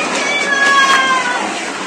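A cat gives a drawn-out, rising and falling meow, loud and close, with background voices and outdoor noise around it.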